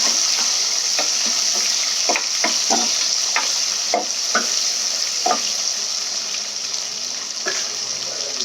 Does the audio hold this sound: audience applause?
no